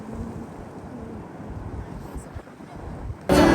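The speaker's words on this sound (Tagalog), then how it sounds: "Grabe, super windy. Super windy." Strong wind at Niagara Falls buffets the microphone in a steady low rumble that ends in a loud, harsh gust.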